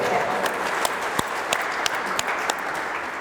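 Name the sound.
audience applauding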